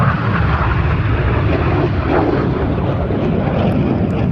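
Red Arrows display jets roaring overhead at the Midlands Air Festival air display, a loud continuous broadband jet rumble sustained throughout as the aircraft pass close to each other.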